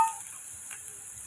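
Finely chopped plantain, soaked in turmeric and salt water, sautéing in a pan: a steady, soft sizzle with faint stirring scrapes, heard alone.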